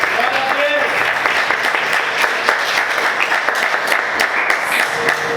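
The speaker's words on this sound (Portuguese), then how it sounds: "Quantos podem aplaudir Jesus? Bem forte, queridos." A church congregation applauds loudly and steadily, sustained clapping that fills the whole stretch, with voices faintly mixed in.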